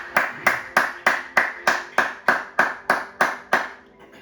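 A church congregation claps in a steady rhythm, about a dozen sharp, evenly spaced claps that stop near the end, loud and close with no talk.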